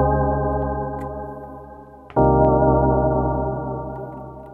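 Synth keys held over a beat as long sustained chords, close and full, with a sharp break a little past two seconds before the next chord swells in and slowly fades.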